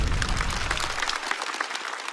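A stand-up comedy audience applauds a performer, a dense sustained wash of clapping that fills the room, its low rumble thinning toward the end while the bright clatter of hands carries on.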